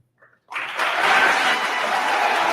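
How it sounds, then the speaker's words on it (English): After a brief quiet moment, rousing applause breaks out among people attending a community event about a historic urban investment, building quickly into steady, full clapping that holds to the end. "the rousing applause of the people in attendance"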